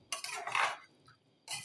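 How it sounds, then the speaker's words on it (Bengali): Spoon or spatula scraping and clinking in a pan of vegetables with onion greens, onion, green chillies, spices and salt, two close bursts of stirring separated by a short quiet gap. "এখন ভালোভাবে নেড়ে ঢেকে দিব।"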